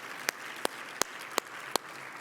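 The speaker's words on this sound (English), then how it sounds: "I'm going to clap that out too." Five sharp, evenly spaced claps ring out at a keynote talk, each a crisp single hand clap with a short pause between, loud and close over a quiet room.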